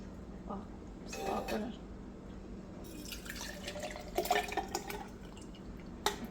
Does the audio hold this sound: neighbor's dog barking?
no